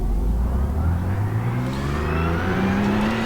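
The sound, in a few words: Porsche 991 GT3 Cup car engine revving in racing simulator game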